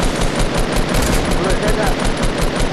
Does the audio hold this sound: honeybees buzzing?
no